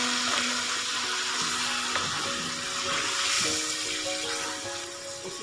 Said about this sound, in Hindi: अब बाकी सारा चिकन इसमें डाल के फ्राई करूँगी